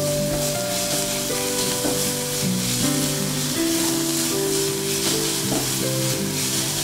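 Chopped vegetables sizzle in a pan, a steady bright frying hiss that carries throughout, mixed with background music.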